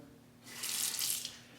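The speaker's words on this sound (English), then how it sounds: "Let's add a little bit more water" A short burst of tap water runs for about a second, adding water to vegan Dreadnought shaving cream lather, close and fairly clear against a quiet room.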